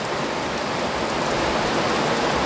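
A sudden heavy afternoon downpour at a farm roars as a steady, broadband wash of rain hitting surfaces nearby, constant and loud throughout with no talking.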